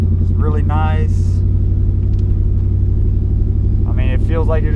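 A 650+ wheel-horsepower Ford SVT Lightning pickup's engine rumbles in a low, steady drone from inside the cab while cruising, with someone talking over it.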